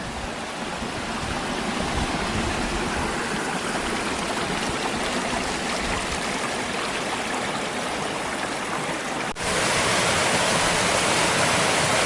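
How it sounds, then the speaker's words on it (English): Waterfalls in Gold Strike Canyon near the hot springs by the Colorado River make a loud, steady rushing roar of falling water that fills the whole stretch without any voices. "More waterfalls,"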